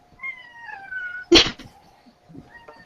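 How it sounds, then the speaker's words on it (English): A cat meows in a short, rising-and-falling call, followed by a sharp knock or bump and a few faint rustles in a quiet room. "Can you get rid of the cat?"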